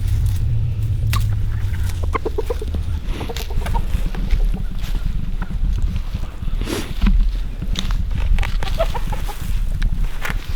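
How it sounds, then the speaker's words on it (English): Several chickens wearing hen saddles cluck and chatter nearby over a steady low rumble, with scattered clucks throughout. "Bunch of crazy chickens."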